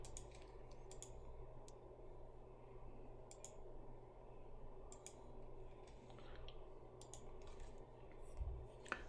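Soft clicks of typing on a computer keyboard while writing on a digital whiteboard during an online math lesson, faint, scattered keystrokes over a low steady hum.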